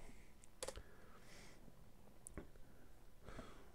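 Keystrokes on a computer keyboard entering answers in the DOS math game Funnels & Buckets, with a few scattered clicks and taps over a steady low hum, fairly quiet.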